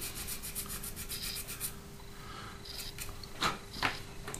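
A coarse sanding sponge rubs over a 1/72-scale plastic Italeri Jaguar T2 model kit, producing steady close scratchy strokes in a quick repeated rhythm, with a couple of sharper scrapes near the end.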